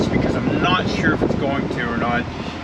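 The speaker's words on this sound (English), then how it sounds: "I have the AC on in my van, as I'm sure you can hear it" Air conditioner running inside a van, a steady broad whooshing hum throughout, with a person talking over it.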